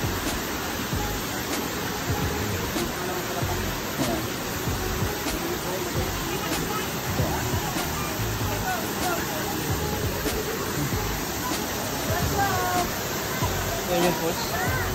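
Water pouring continuously at Lubong Nangoloan Falls in San Felipe, Zambales, a steady rushing hiss with people talking over it.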